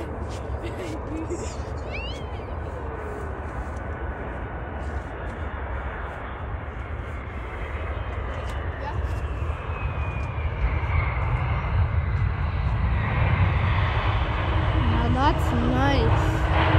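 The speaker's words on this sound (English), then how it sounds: "here comes the big plane" A large airplane, an MD-11 or A330, drones overhead, its engine roar growing louder as it approaches, while people talk excitedly nearby.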